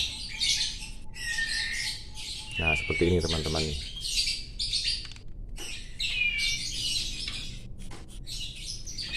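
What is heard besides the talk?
white-rumped shama chick chirping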